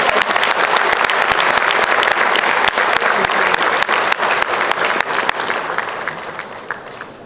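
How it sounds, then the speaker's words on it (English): Audience at a corporate awards show breaks into loud, dense applause with many sharp individual claps, holding strong before gradually thinning out toward the end. "So big round of applause to all of you."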